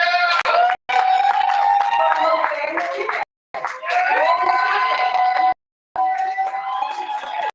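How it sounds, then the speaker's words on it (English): Audience at a poetry slam clapping and cheering, a dense loud burst of applause with shouts and whoops, broken by brief silent gaps, with voices mixed in. "Please start clapping now."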